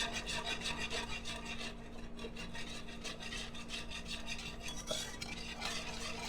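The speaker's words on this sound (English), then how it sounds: "We're going to whisk again. So this is our cheese sauce for our mac and cheese casserole." A whisk works through cheese sauce for a mac and cheese casserole in close, rhythmic scraping strokes against the pot, with no talking.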